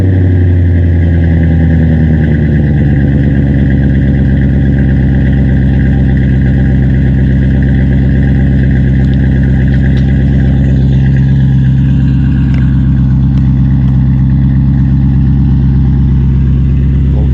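A BMW E39 540i with a six-speed gearbox and 3.15 rear differential cruises along, its engine a loud, steady low drone heard from inside the car, with no talking.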